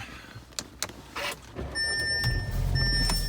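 An Audi being started: a couple of brief clicks and a short whir, then the engine catches and settles into a steady low idle, close by and fairly loud, with no one speaking.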